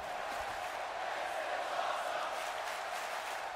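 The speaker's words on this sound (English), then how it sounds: "You hear the crowd." Steady roaring crowd noise from a WWE 2K18 wrestling video game arena during a Smackdown Live match, continuous and dense throughout with a faint swell near the middle, cheering blended into a constant wash with no distinct talk.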